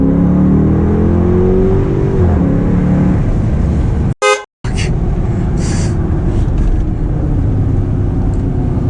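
A custom Jeep Grand Cherokee Limited in sport mode slows and downshifts twice: a loud, continuous engine roar from inside the cabin with a falling tone, a brief sharp cutout, and then the engine pulling hard again.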